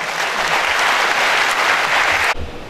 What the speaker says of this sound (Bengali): আমি দেখে জোরে একটা হাততালি তার জন্য হবে।